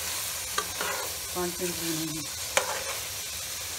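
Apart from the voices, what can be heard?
aloo keema mutter curry frying and being stirred in pan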